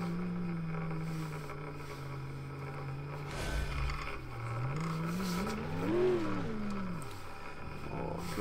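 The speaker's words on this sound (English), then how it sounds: "Oh, great supercharger noises coming from this thing." A supercharged off-road vehicle engine in the BeamNG driving game drones steadily, then revs up and down with a rising supercharger whine, close and loud with no talk.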